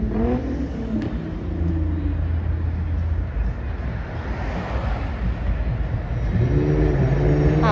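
A Genesis car revs and drives past on the Las Vegas Strip, a steady rumbling roar with pitch rising near the end, no talking.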